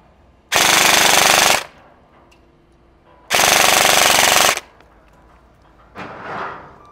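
A full metal Helios Umbrella Corporation M4 airsoft AEG fires two loud, sustained full-auto bursts of about a second each, separated by a pause, then a quieter short mechanical sound follows.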